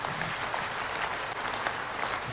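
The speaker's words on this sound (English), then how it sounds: "Can you clap your hands for Jesus?" A church congregation at a midweek service claps their hands in a steady, dense wash of applause that holds at an even level throughout, with no voice rising above it.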